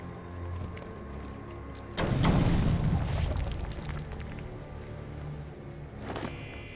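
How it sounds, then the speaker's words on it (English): Explosive gel detonating to blast through a weak floor in a Batman video game: a single heavy boom with a rumbling crash and debris that trails off over a few seconds, followed by a smaller thud, with no voices. "I can use my explosive gel to break through."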